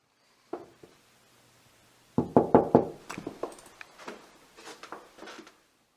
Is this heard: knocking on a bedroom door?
yes